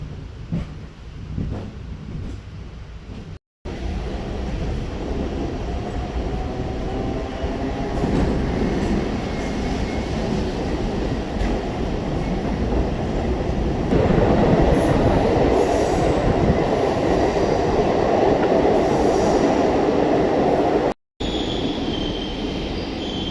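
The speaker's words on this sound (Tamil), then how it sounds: "ஸோ இங்கேருந்து இந்த ட்ரெயின் ஸ்டார்ட் ஆயிடுச்சு." An MRTS train pulls away from Puzhuthivakkam station, its rumble building into a steady loud roar of wheels and cars with squealing and faint clickety-clack, close by and without talk.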